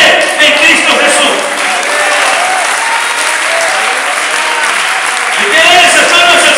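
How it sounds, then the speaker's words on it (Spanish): A church congregation claps during a Spanish-language sermon, a loud, dense and even wash of many hands that holds steady for several seconds, swelling slightly at the end. "¿Y qué es esas palmas al Señor?"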